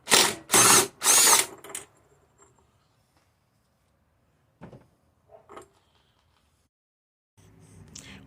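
A power tool runs close and loud in three short bursts, taking the 15/16 flywheel bolt off a Briggs and Stratton engine on a Craftsman mower, followed by quiet metal clinks and handling.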